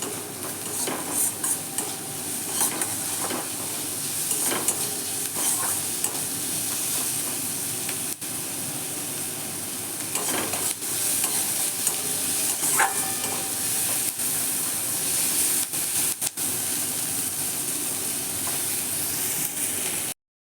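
Onion and garlic fry in a pan for a Bengali fish and jackfruit-seed mash, giving a steady sizzle and hiss with occasional stirring scrapes that run unbroken at an even level throughout.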